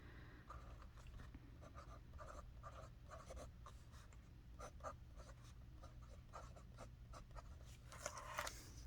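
A fountain pen filled with Diamine Lilac Satin ink scratches steadily across paper in soft, continuous strokes, close-up and quiet, with a faint low background hum and a slightly louder scrawl near the end.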